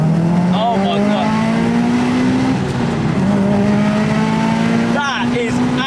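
A Subaru Impreza STI S203 accelerates hard from a rolling start, its engine note climbing through the revs, dipping at a gear change near the middle and rising again, loud and close, with another brief shift toward the end.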